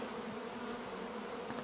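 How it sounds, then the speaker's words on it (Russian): Honeybees buzzing around a hive in autumn, with grey robber bees arriving; a continuous faint droning hum, steady and close, with no talk. "прилетает серая пчела, другая."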